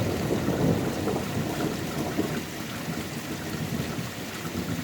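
Thunder rolls low and steady through a heavy rainstorm with lightning, a continuous deep rumble mixed with the hiss of falling rain, fairly loud and with no voices heard.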